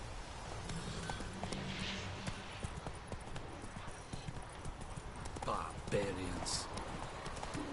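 The horse Roach galloping in The Witcher 3, a rapid, steady clip-clop of hooves close by that continues throughout, with voices talking over it and a brief whinny.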